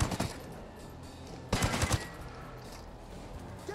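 Automatic gunfire in the Ghost Recon Breakpoint video game: two loud bursts of rapid shots, the first brief at the start and a longer volley around the middle, with quieter background between, no speech.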